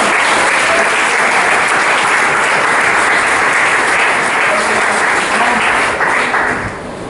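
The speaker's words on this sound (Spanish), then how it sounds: "¿Cuántos pueden dar un aplauso al Señor?" A church congregation applauds loudly during a sermon, a dense sustained burst of clapping that holds steady and fades slightly at the end.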